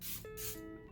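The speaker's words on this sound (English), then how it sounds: "This feels like I'm spraying water on my face." Setting spray misted onto a face in short hissing bursts, two quick sprays close to the mic followed by a softer breath.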